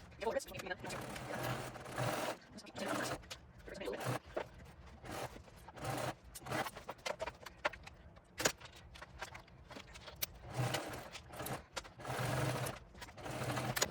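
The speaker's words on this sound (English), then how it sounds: "now we're going to go ahead and sew this on" A home sewing machine stitching a backpack whirs in repeated short bursts with pauses in between, close and fairly loud, as someone talks throughout.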